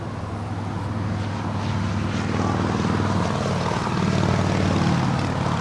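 Airliner taking off from runway 25 right at Los Angeles International Airport, a steady, loud engine roar that builds slightly over several seconds and holds as a broad rumbling drone, with no voices.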